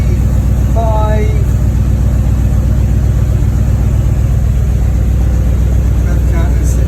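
A custom-built monster car engine idling steadily at about 800 rpm, a loud, constant low rumble with an even pulsing throb; a brief whistle-like tone rises over it early on.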